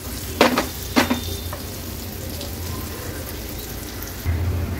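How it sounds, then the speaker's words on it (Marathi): Slices of elephant foot yam (suran) fry in a lightly oiled pan over a low-to-medium flame: two quick clatters, then an even, close sizzle that carries on alone. "आता गॅसची फ्लेम लो टू मीडियम वर ठेवून एक बाजू व्यवस्थित फ्राय करून घेऊया।"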